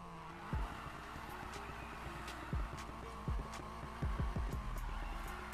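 A car in a video game mounts the curb and drives along the sidewalk, its steady engine drone broken by several sharp thumps and bumps as the wheels hit the edge, loud and close.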